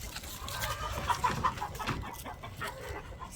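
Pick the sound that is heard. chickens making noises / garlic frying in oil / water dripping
chickens making noises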